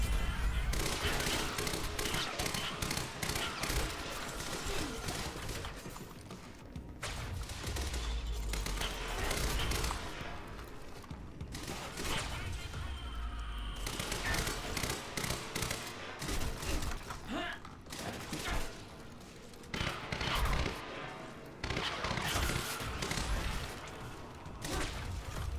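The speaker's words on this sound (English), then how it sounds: "I'm not a huge fan of burst fire." Dense burst-fire gunfire in the video game Quantum Break, repeated bursts of rapid shots mixed with explosions and whooshes, loud and continuous throughout with brief pauses between volleys.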